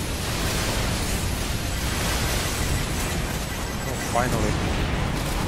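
Sustained gunfire and explosions roar in the Earth Defense Force 4.1 video game on PS4, a dense, loud wash of noise throughout with a brief sharp whistle near the end, a voice speaking briefly over it.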